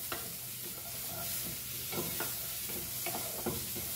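Goan pork roasts dry in a pan with no oil, a steady sizzling hiss punctuated by several stirring scrapes and light knocks, close and unaccompanied by voices.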